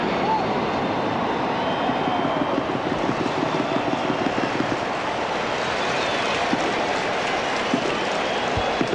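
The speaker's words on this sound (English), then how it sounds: "And listen to this crowd here this afternoon." A large NFL football stadium crowd in Seattle roars steadily, a dense wash of cheering and chatter with no breaks.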